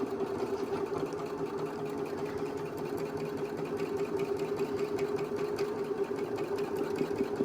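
Domestic sewing machine back-stitching a seam on a fabric face mask, a steady close mechanical whir with rapid needle chatter running continuously throughout, with no talk.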